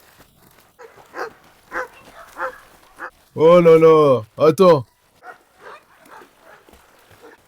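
Dogs bark and yelp by a swimming pool in a loud burst of strained, howling barks midway, with someone talking calmly before and after.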